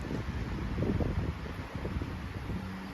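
Strong storm wind tears through a garden and orchard, stripping fruit from the trees, as a continuous low roaring rush with surging gusts and no speech.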